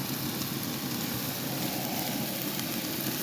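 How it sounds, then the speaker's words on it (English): A steady, dense crackling sizzle of steak frying in a hot pan, continuous and close without pause. "Hear that sizzling?"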